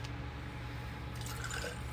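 Water poured from a milk jug to fill a container for growing a potato, a steady close trickling and splashing that runs the full two seconds with brighter droplet sounds toward the end.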